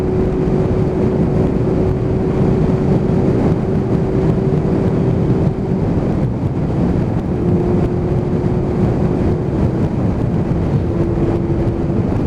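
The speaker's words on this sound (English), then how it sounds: "Oh god, that headwind. It's getting really, really breezy now." Strong headwind buffets past a cyclist, a constant low roaring rumble of wind hitting the rider with no voices, fairly loud and unbroken throughout.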